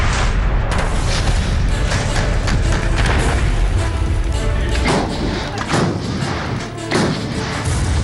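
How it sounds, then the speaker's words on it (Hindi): An M777A2 ultralight howitzer artillery piece firing, heard as loud, continuous booming thumps and blasts over a dense rumbling roar for the whole stretch, with no voices. "ये है M777A2 अल्ट्रालाइट हाउइट्जर"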